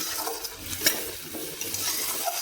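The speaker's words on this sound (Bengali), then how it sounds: "ভালো করে মশলাটা কষে নিতে হবে" Turmeric, Kashmiri chilli powder and coriander powder being sautéed in a pan for a spicy potato-capsicum dish, a steady sizzle with soft scraping stirs and a couple of light clicks, close and continuous.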